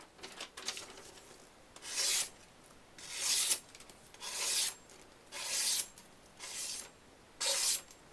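A knife blade is sharpened on a brick in about seven separate rasping strokes, each a gritty scrape with short quiet gaps between, close and clear.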